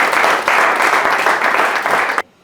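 A church congregation applauds in a dense, loud wash of clapping that keeps a steady intensity, then cuts off abruptly near the end.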